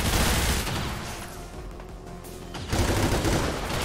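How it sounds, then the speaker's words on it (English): Dense, continuous gunfire from the XCOM 2 video game (War of the Chosen, modded), loud volleys across the whole stretch with a brief lull in the middle before the shooting swells again; no talking. "I'm just gonna sit here and fucking shoot motherfuckers."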